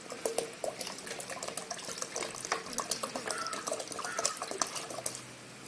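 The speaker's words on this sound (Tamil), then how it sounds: "கோமியம் 1/2 லிட்டர் ஊற்றிக்கலாம்." Half a litre of cow urine poured into a bucket for making a neem-based pesticide, a continuous splashing liquid pour with small drips, fairly close and steady for about five seconds.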